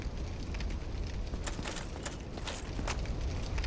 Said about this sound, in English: Wait, I hear footsteps.